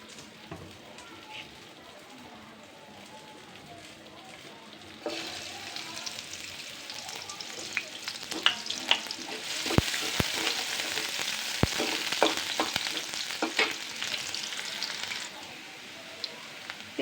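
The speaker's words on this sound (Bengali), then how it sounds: "পেঁয়াজটা ভাজা হয়ে গেছে" Onions fry in a pan with a soft sizzle that swells into a louder, busier crackle midway, punctuated by sharp spattering pops and utensil clicks, then eases back toward the end.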